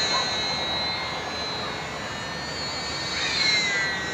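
A Sbach 342 ultra micro RC airplane flying aerobatics in calm air, a thin high-pitched electric motor whine rising and falling as it passes at moderate distance.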